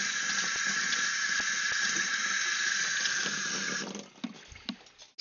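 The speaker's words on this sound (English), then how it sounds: "Alright, let me take some water out." Water pours and splashes steadily, like a tap running into an aquarium tank, then breaks off into a few scattered drips and bumps near the end; no one speaks.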